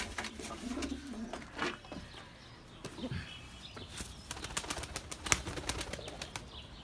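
Soft cooing of Mardin pigeons mixed with bursts of wing flapping and scattered chirps, fairly close, with no talking.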